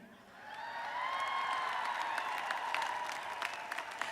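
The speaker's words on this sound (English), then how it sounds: "Please give this extraordinary class another round of applause." Swelling crowd noise with clapping spread through a large space at a high school graduation ceremony, rising after a moment and holding steady, with a few voices calling out.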